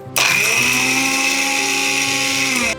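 A mixer grinder grinding ginger, garlic and green chillies, starting abruptly with a loud high whirring motor whine that holds steady for over two seconds and then cuts off.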